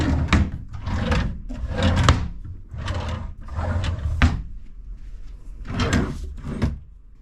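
Desk drawers in a cruise ship cabin slide open and shut repeatedly, a series of rumbling wooden glides with soft knocks at the ends, close and fairly loud with no talking.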